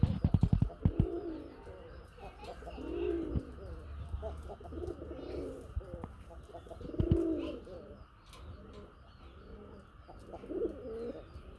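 Fancy pigeons, Rajgolla, gorra and kakji breeds kept as a collection, coo repeatedly in close, rhythmic, rolling calls, each swelling and fading in a steady series with little else around.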